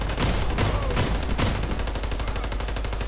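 Video game gunfire crackles in rapid, sustained automatic bursts, loud and close, with a few heavier shots near the start before a steady stream of fire; no speech is heard.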